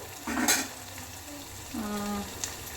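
Dill greens with turmeric fry in a pan, a soft, steady sizzle close by, broken by two scraping strokes of a spoon stirring against the metal.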